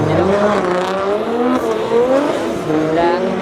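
A race car skids backward with the handbrake and brake applied together, a loud sustained tire squeal with wavering pitch over engine noise, continuous and close.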